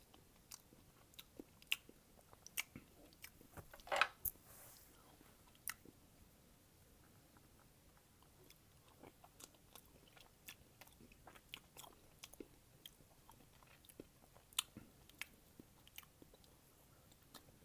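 Mint chocolate chip ice cream being eaten up close, with soft wet chewing and bites scattered through a quiet stretch and a few sharper crunchy clicks standing out.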